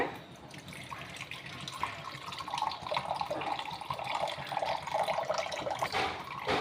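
Blended juice is strained through a filter, making a continuous trickling, splashing pour of liquid close to the microphone that grows a little louder toward the end, with no talking.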